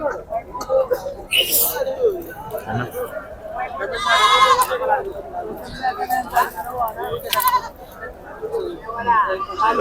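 Large goats bleat repeatedly amid a crowd of people talking at a livestock market in Pebbair, the animal cries mixing with steady chatter.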